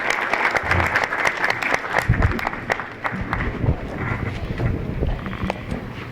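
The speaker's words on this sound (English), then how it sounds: "let's have a round of applause for 4 great candidates for the Milford School Committee" Audience applause at the third annual Citizens for Milford candidates forum, greeting four Milford School Committee candidates: sustained, dense clapping from a room crowd lasting several seconds, fairly close with some muffled rumble.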